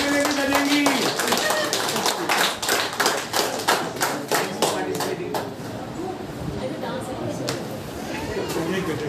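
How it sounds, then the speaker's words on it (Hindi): Clapping from the audience at a Father's Day function, sharp individual claps in a quick rhythm that fade out into a murmur of voices and room noise. "तालियां जोरदार इनके लिए बजाएंगे"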